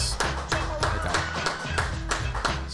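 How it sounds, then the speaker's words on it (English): Steady, evenly spaced hand claps, close and fairly soft, repeat about three times a second in a sports podcast studio with no talking over them. "Mum, if you want to clap as well."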